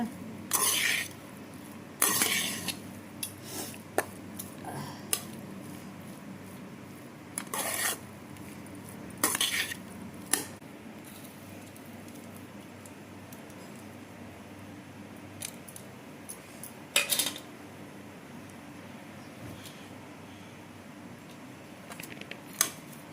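A utensil scrapes and taps inside a pot while cooked rice is mixed for onion rice, with a series of intermittent close clinks and rubs over a low steady kitchen background.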